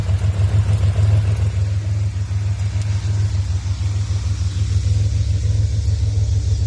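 A 2007 Pontiac Grand Prix GT engine with an exhaust leak idles before warming up, a steady low rumble and a faint ticking, puffing roughness, close and constant throughout.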